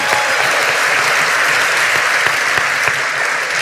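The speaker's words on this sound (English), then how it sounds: "Give him a round of applause" An audience at a rock and roll hall of fame induction ceremony in Iowa applauds in a dense, steady, loud wash of clapping that runs the whole length without a break.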